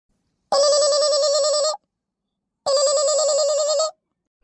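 A telephone rings twice, each burst a bright trilling electronic ring lasting over a second, separated by a short silence, loud and close with nothing else heard.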